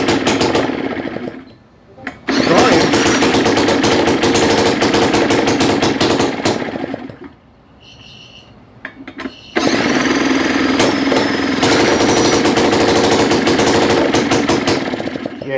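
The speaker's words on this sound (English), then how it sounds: "you see it's backfiring?" Craftsman Japanese backpack blower engine with a valve problem running loud and rough, then dropping low and surging back up, with irregular popping backfires through the steady drone.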